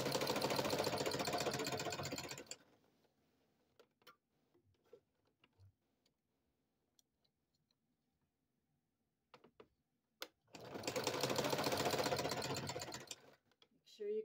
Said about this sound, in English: And then just start sewing your zigzag stitch.